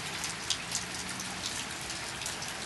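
Steady rain falling on snow cover in February, a dense continuous patter with occasional louder drops, fairly close and with no voices.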